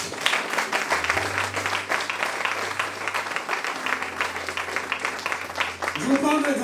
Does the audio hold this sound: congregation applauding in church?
yes